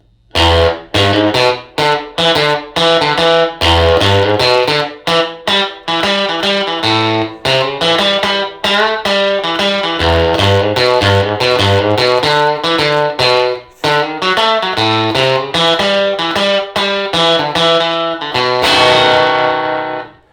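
A distorted electric guitar plays a loud, choppy, funky riff with low bass notes from a 1960s blues instrumental, repeated rhythmically and ending on a ringing strum.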